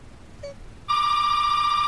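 A telephone in a film rings with a bright electronic trill that starts abruptly and holds steady and loud, after a quiet moment with a faint short tone.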